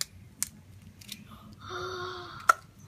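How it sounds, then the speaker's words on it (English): A few sharp snips of scissors cutting plastic, followed by a longer crinkling, scraping rustle and one final crisp click, close up and otherwise quiet. "I'm gonna cut the bottom off with my scissors"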